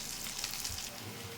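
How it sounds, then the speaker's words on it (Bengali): Flower samosas of potato and flour dough deep-frying in hot oil, a continuous soft sizzle and crackle heard up close with no speech over it. "এগুলোকেও উল্টে পাল্টে আমি ভালো করে ভেজে নেব।"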